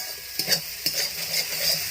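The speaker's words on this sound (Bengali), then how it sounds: "এবার আমি মশলাটা ভালো করে কষে নেব।" Masala spice paste for aloo gobi matar being stirred and fried in a pan with a little water: a constant hiss of sizzling broken by a few distinct scraping strokes, no speech.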